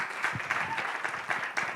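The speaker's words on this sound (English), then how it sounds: "A big round of applause to Farah Al-Ruhayyam pitching for us Ashghali." Audience applause at a university startup pitch event, a dense continuous patter of many hands clapping, fairly close and even in loudness throughout.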